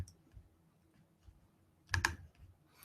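Faint, sparse computer keyboard clicks from keyboard shortcuts, with a sharper cluster of two or three close, louder keystrokes near the end.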